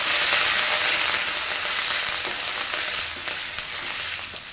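Curry leaves crackle and sizzle in hot oil with garlic for a vegetable sambar. The frying is loud and steady, hissing continuously with scattered pops and no talking.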